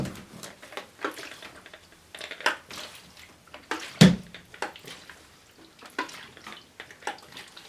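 Repeated sloshing and knocking of developer inside a small closed film developing canister being agitated, rhythmic shakes with a sharper thump midway, close and moderately loud.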